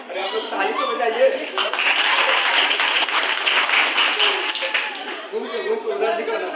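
Farewell party audience claps together in a sustained round of applause, building to a dense patter and then tapering, with chatter and a voice talking before and after.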